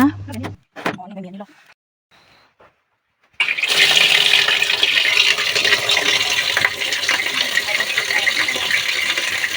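Samsung top-loading washing machine tub filling with water, a steady loud rushing hiss that starts abruptly after a few quiet clicks and knocks and continues without break.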